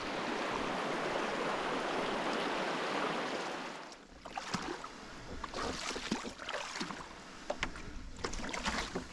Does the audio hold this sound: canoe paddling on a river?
yes